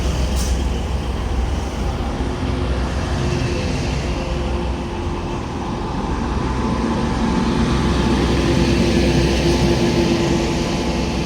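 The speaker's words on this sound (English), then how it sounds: "arriving in now is your 1344 Transpennine Express service from Cleethorpes to Liverpool Lime Street with 185 133 at the front of this train" A TransPennine Express class 185 diesel unit pulls into Doncaster station, a steady loud rumble of engine and rolling wheels holding throughout with no talk.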